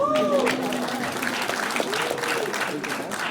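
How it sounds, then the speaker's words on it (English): Crowd at a motivational talk gives itself a round of applause, steady clapping mixed with cheers and a few shouting voices, fairly loud throughout. "Give yourself a round of applause"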